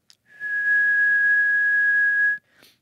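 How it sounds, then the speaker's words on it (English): A person whistles a single steady, pure tone held for about two seconds, clean and close, with brief faint sounds just before and after. "for instance, if I whistle,"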